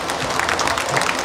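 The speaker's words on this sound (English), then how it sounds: "give these exhibitors one more round of applause" An audience at a junior livestock show applauds the exhibitors, a dense burst of clapping from a crowd filling the whole short moment at a steady, fairly loud level.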